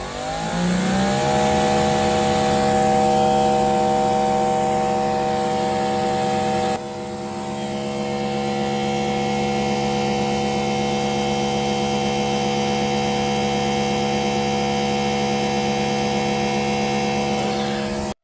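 A Greenworks Pro 3000 electric pressure washer runs with its turbo nozzle, a steady loud motor whine and hiss holding for the whole stretch, with a brief shift in tone partway through and no talking.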